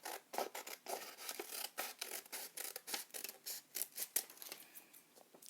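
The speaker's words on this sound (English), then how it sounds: "Take some scissors, cut off this part here." Scissors snip through origami paper for a swan fold, a quick irregular series of crisp cuts and rustles, close and fairly quiet, with no talking.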